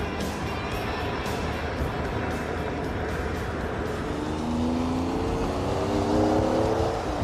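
A Lamborghini Diablo, one of the fastest cars in the world, being driven in 1994, its engine a dense continuous roar with rising tone as it accelerates, loud and close with no talking.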